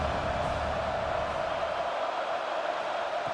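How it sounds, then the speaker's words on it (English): Crowd cheering on third down in EA Sports College Football 26 during a USC vs Oregon game, an even, distant-sounding roar from the stadium that holds steady throughout. "Third down and the crowd really getting into it"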